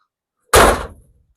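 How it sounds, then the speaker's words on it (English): A 1977 Chevrolet El Camino's door shuts once with a loud, solid slam close by, its low thud fading quickly into silence. "We want to show you shutting the door. Because man, I can't believe how nice this door shuts."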